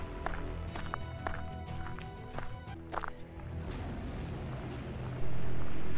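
Footsteps of a creature in the video game Empyrion, a run of steady, evenly spaced thuds in the near foreground over a dense game ambience, ending in a loud sustained rumble.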